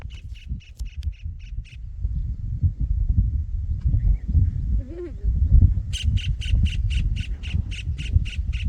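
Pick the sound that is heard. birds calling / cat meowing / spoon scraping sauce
birds calling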